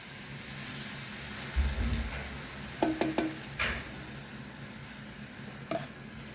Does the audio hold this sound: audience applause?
no